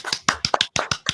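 A handful of distinct, sharp hand claps close by, irregular and quick, about eight in a row with brief gaps.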